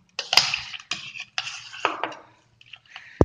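Homemade butter washed by hand in clean water in a bowl while making ghee, giving splashy, sloshing bursts of squelching and water movement in several short separate strokes, close up and without talk.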